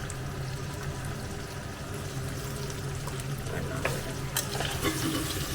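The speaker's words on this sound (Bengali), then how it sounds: "চিকেনটা একটুখানি ভাজা ভাজা ভাজা ভাজা হবে" Chicken frying in a pan with salt and spices while being stirred, a steady low sizzle with scraping spoon sounds and a few sharper clinks toward the end, close and continuous.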